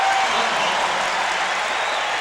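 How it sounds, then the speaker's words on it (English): A large arena crowd at a 1996 Suns versus Bulls NBA basketball game roars and applauds steadily after a blocked shot, a dense, continuous wash of cheering heard from a distance. "And the crowd reacting to the block of Harper."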